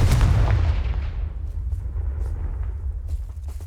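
Confringo spell explosion in the video game Hogwarts Legacy, a single loud close boom at the start that decays into a long rumbling tail with faint debris crackles.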